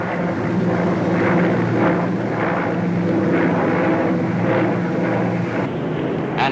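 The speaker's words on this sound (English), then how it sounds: "The very latest in jet bombers, the Victor was there, making its first public appearance, an aircraft of strange and menacing design." A Victor jet bomber passing overhead, making a continuous loud roar with a steady rumble that holds throughout, heard alone with no voices.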